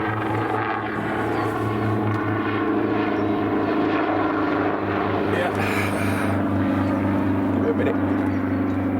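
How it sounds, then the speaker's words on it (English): A helicopter passes overhead in open countryside, a steady low rotor drone and engine hum that holds throughout with no break. "Now about helicopters."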